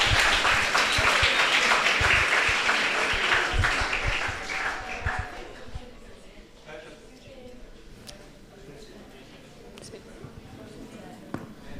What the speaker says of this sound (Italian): quindi un applauso a sti ragazzi